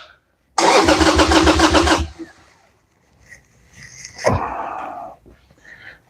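A Harley-Davidson Sportster on choke cranks and fires in a loud, close burst of rapid pulsing lasting over a second, then cuts out; a second shorter sputtering attempt follows after a pause.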